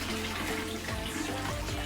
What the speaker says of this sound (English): now that I've dumped out all of the water